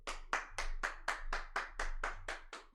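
Someone claps hands steadily about a dozen times in an even rhythm, close and crisp with no other sounds around.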